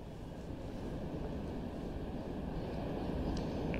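Water released through the lifted gates of Nagarjuna Sagar dam makes a steady, dense roar, a constant broadband rush that holds at an even loudness throughout, with no voices.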